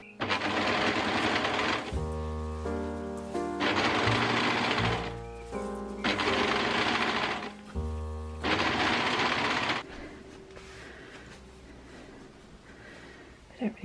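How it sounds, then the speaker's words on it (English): An overlocker and sewing machine work on pyjama bottoms, giving loud, close, rapid mechanical stitching in four long bursts with short pauses between. Quieter rustling follows at the end. "I've now just got to overlock them and sew them together."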